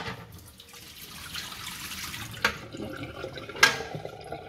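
Water poured out of the tank of a De'Longhi coffee machine into a sink, a steady close splashing stream with two sharper clunks of the plastic tank partway through.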